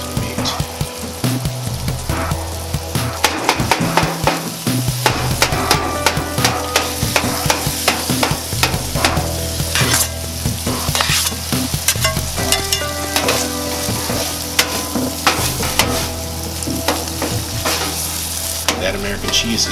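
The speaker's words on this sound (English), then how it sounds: "chop the cheese, and mix it right into the meat" Chopped American cheese being mixed into ground meat frying on a griddle for a chopped cheese sandwich, with a constant close sizzle and rapid metallic spatula chopping and scraping throughout.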